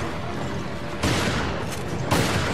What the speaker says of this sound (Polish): Okej, 4 strzały.